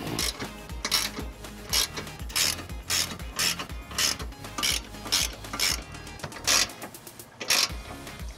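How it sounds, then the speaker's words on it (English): A 1/2-inch ratchet with a 19mm socket snugs up the bolts of a U-Haul trailer hitch on a 2006 Jeep Grand Cherokee, giving close, rhythmic bursts of rapid clicking with brief pauses between strokes. "using a 1/2-inch ratchet and a 19mm, we're gonna go ahead and snug these up"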